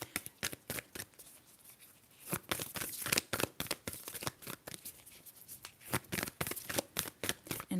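Moonology oracle cards shuffled during an ASMR tarot reading, giving quiet, crisp riffling and flicking in rapid bursts with brief pauses, close and soft, with no voices.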